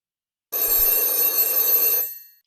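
A telephone bell rings loudly in one sustained burst of about a second and a half, bright and metallic, alone with no talk over it.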